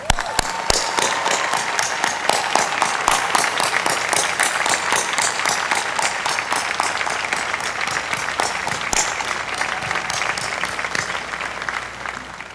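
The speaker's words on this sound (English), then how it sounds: "Graduates, would you please join me in applause for all those who bore you" A university commencement crowd at Vanderbilt applauds the graduates' families and supporters, a dense, sustained wash of many hands clapping that holds steady for over twelve seconds without a break.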